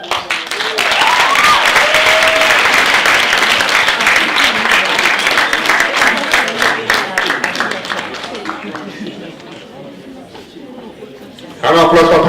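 A round of applause at a STEM festival and research symposium closing ceremony as a first-place winner is announced, loud sustained clapping from the audience under a speaker's voice that dies away, then a sudden burst of sound at the end.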